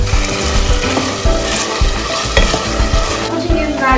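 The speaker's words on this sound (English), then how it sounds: "Fry these potatoes, mix it well," Potatoes sauté in a hot frying pan as they are stirred, giving a steady, close sizzle with scraping stir sounds throughout and no talking.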